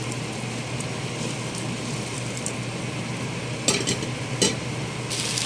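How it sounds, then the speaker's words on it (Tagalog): Chicken biryani mixture with chicken cube being stirred in a pot, a steady close scraping, sizzling texture throughout with a few louder clatters of the spoon near the end. "mix na muna natin para magpantay yung lasa"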